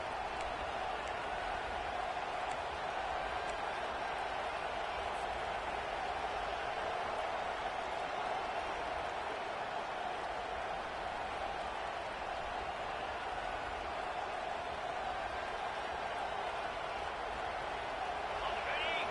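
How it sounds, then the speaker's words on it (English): A college football stadium crowd at a Blazers vs Vols game roars on a third down, a dense, continuous wash of loud cheering that holds steady throughout, with a commentator's voice faintly over it. "Decibels rising as the crowd gets behind this defense on 3rd down."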